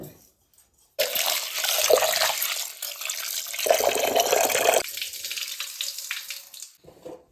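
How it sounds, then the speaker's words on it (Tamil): Water pours steadily and splashes into a vessel of lentils for several seconds, briefly stopping and resuming, close and fairly loud with no talking. "நான் பருப்பு அலம்பிட்டு மூணு டம்ளர் தண்ணி ஊற்றிருக்கேன்"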